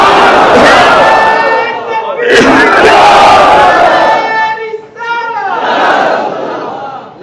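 A large mosque crowd chants Islamic religious slogans loudly in unison, the voices swelling in long repeated phrases with brief pauses between them, close and powerful.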